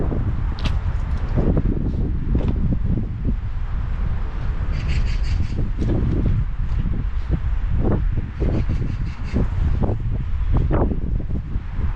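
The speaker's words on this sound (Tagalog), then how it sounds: "Lumakas ang hangin." Strong, gusty wind at a seaside eatery roars into the microphone as a loud, continuous low rumble with buffeting bursts, lasting the whole stretch.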